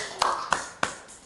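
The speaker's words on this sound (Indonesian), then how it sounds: "Oke, tepuk tangan dulu semua dong" A room audience claps at a modelling presentation in Sumedang, three sharp bursts about a third of a second apart, moderately close, with a faint background murmur.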